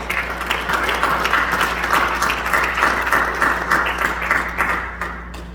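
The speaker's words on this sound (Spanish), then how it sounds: "Denle un fuerte aplauso al Señor" A church congregation gives loud applause for the Lord at a Spanish-language service, dense clapping from many people sustained for several seconds over a low steady hum, tapering off at the end.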